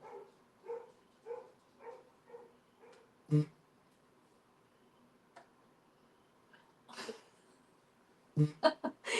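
Dogs at home barking in a steady series of short, faint yelps, followed by a quiet stretch and then a few louder, sharper barks near the end.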